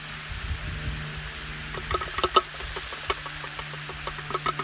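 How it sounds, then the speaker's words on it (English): Water from boiled potatoes splashes and trickles as it drains into a sink, soft and intermittent with a few louder spatters. A faint hum runs underneath. "I'm gonna drain it over here. Get the water out of there."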